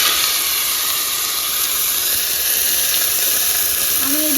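Water poured into a hot pan of fried potatoes bursts into a loud, continuous steaming hiss that holds evenly from start to finish, with no voices.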